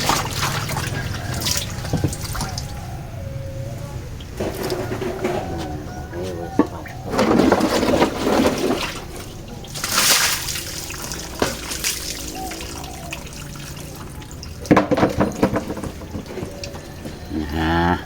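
Water splashing and dripping while a motorbike is washed, irregular bursts of spray and splashes, loud and close, with lowing cattle nearby and occasional clunks.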